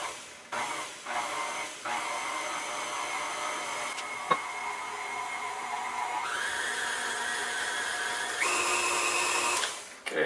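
A kitchen mixing appliance pulses cookie dough ingredients with baking soda: a loud motor whir in several bursts of changing pitch, stopping and restarting, close by and without talk.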